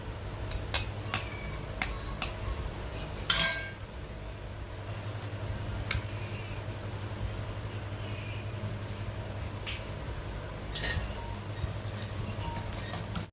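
Chicken lollipop marinade mixed with egg in a bowl makes repeated light clinks and taps of utensil against the bowl, irregular and close, over a low steady background hum.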